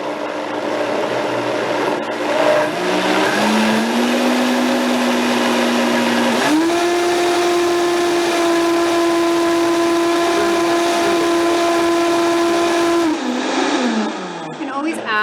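A countertop blender whirs through a bright green mixture, starting with a rising whine that settles into a steady, loud, close motor hum for several seconds before spinning down.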